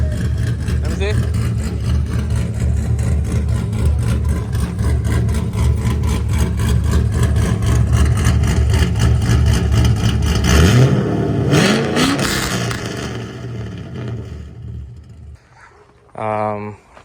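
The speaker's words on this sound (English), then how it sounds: "Got the exhaust done for the 240. Got it basically white pipe in the middle, straight pipe to the back, and it sounds gnarly." Nissan 240SX S13 with a fresh straight-pipe exhaust, running loud and rumbling steadily before a couple of rising revs near the end, with people talking over it.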